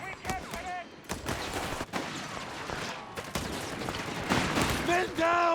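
Rapid MP40 submachine gun bursts from a German grenadier in Company of Heroes 3, crackling steadily through a busy battle mix with other gunfire around it.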